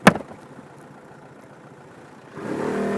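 A Quadro 3D 350 three-wheeled scooter engine idles steadily at a traffic light with a low, even hum after a brief knock at the start, then rises into a louder revving as it pulls away, with no talk.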